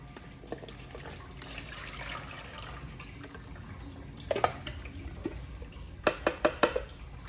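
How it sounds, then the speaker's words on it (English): Pineapple juice from a can drains into a container with a soft trickle, followed by a few sharp metallic clinks and taps of the can against a dish near the end, close and moderately quiet. "Get those out the can. Drain your juice."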